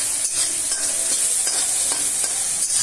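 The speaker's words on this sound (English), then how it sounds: "So we have added all the prawns into this oil," Prawns fry in oil in a pan over a low flame, giving a continuous bright sizzle with occasional scraping from stirring, steady and close throughout without any voices.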